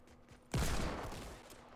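A single loud hand cannon shot in the Fortnite video game, an abrupt boom that rings out and fades slowly over about a second.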